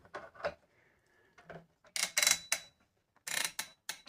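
Air Tiger toy tail piece being pushed back onto the model, a handful of small, sharp plastic clicks and snaps in separate bursts, close and fairly quiet.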